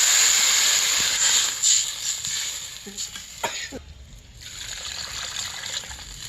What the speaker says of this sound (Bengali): একটু বেশি জল দিয়ে দিলাম